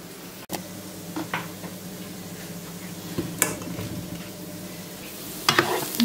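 Onion frying in a pan gives a soft, steady sizzle close by, with occasional clinks and scrapes of a utensil against the pan and a sharp knock near the start.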